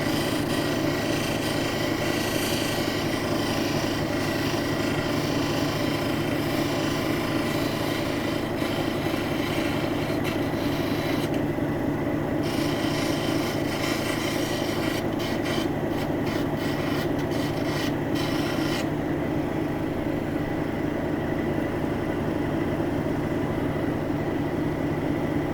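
A Brazilian agate cabochon grinds against a coarse-grit stone in a loud, continuous rasping roar. The steady abrasive scrape runs without a break, and its gritty texture shifts slightly as the angle changes.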